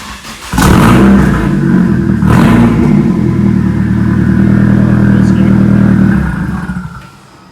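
An engine roars to a loud, sustained high rev with the throttle held wide open, then drops away, close and dominant, with a voice briefly over it.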